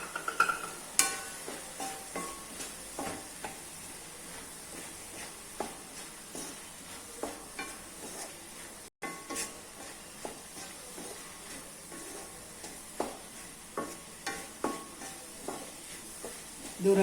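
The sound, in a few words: beetroot stir fry with gram flour being stirred and sautéed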